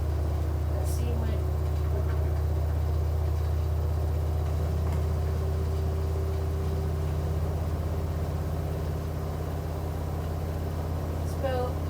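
An LG WM3770HVA washing machine spins at medium speed, around 900 to 1,000 RPM, giving a steady, loud motor hum with a whirring drone that stays constant throughout.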